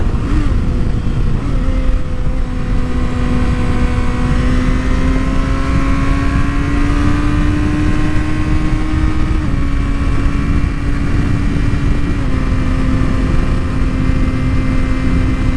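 A 2023 Kawasaki ZX-6R sport bike is ridden on twisty roads, its inline engine droning loud and close with rising and falling pitch through shifts and throttle changes, accompanied by constant wind noise.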